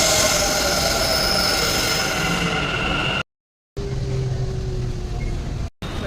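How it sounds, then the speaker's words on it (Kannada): A metro train pulls into a station, a continuous rumbling roar with a drawn-out wheel squeal and humming tones, loud and close, broken by two brief cuts to silence. "2 minutes for the train to arrive."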